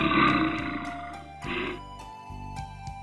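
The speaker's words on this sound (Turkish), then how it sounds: "Ve ayılar böyle ses çıkarırlar." A bear growls in deep, rumbling roars, one long throaty bellow followed by a shorter second growl, loud and close with no talking.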